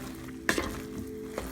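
Almond roca toffee bubbles and sizzles in a pan with a steady close hiss, broken by a few light stirring knocks against the pan.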